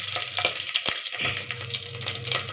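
Three green chillies fry in hot oil with a dense, crackling sizzle, close and steady, broken by a couple of sharp stirring knocks.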